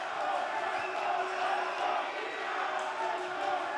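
A wrestling event crowd at Thunder Studios in Long Beach fills the room with a continuous, loud roar of voices and cheering, steady throughout with no single voice standing out.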